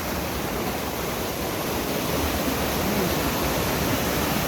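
Mt. Maarat waterfall in San Mateo, Rizal, Philippines, roars as a dense, constant rush of falling water, loud and steady with no breaks.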